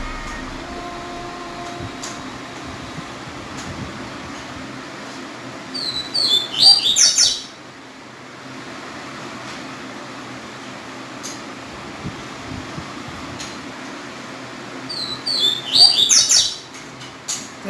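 A caged double-collared seedeater (coleiro tui tui) sings two short bursts of bright, rapid chirping notes, separated by about ten seconds, over a steady mechanical hum, with no voices.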